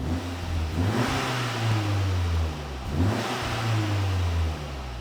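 A Cupra Ateca with its GPF/OPF deleted revs twice, each exhaust rise climbing and then falling back, loud and close with no voices.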